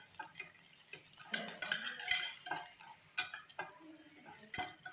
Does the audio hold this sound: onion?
yes